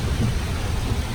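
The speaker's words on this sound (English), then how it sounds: "waiting for this crazy rain to stop just a little bit" Heavy rain pours steadily onto a boat during a downpour, a dense continuous hiss and low rumble that stays loud and even throughout, with no voices.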